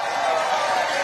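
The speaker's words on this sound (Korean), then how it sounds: "박수 한번 주십시오." Audience applause at a political rally in Ulsan, South Korea, a brief steady wash of clapping from a large crowd, dense and even with no single claps standing out.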